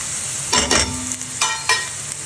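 Spices, fenugreek, chana dal, mustard seeds, urad dal, cumin and dried red chillies tempering in hot oil for gongura pappu, sizzling close up with a few sharp bursts of crackling and stirring scrapes.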